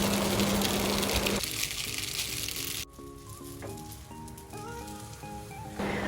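Pasta tossed with Maggi masala in a hot pan sizzles and fries steadily; the sizzle dips partway through, then continues alongside a few light clinks as it is stirred, with no talking.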